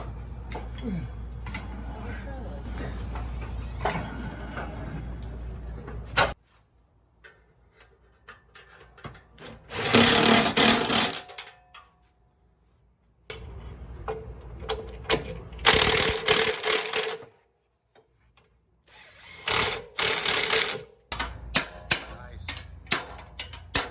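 Bursts of loud, rapid metallic hammering on the differential parts of a 2018 Ford Mustang S550 come in several separate spells, broken by near-silence and a droning engine, with voices now and then.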